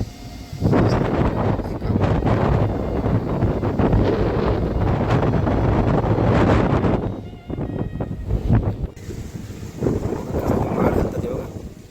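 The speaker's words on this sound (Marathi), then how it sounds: "आता वारा एवढा सुटला की झाड मोठी फांदीच तुटली" Strong gusting wind at a rough seashore near a jetty with moored fishing boats, roaring and buffeting the microphone almost continuously, easing briefly before surging again.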